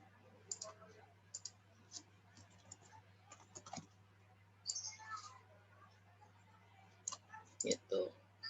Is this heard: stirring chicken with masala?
no